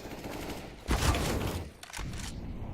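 Gunfire in Counter-Strike: Global Offensive during a competitive esports grand final, a loud dense burst of shots landing in the middle of the round over a steady background of game ambience.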